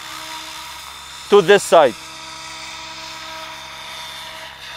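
Small RC 3D helicopter flying, a steady high whine under a man's speech, with a brief louder burst of sharply pitch-shifting rotor sound in the middle.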